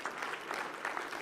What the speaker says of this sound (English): Okay, yeah, you're clapping.